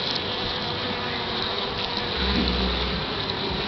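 Honey bees buzz steadily around their hives in winter as foragers return carrying pollen, a dense continuous hum that stays close and fairly loud throughout, with no talking.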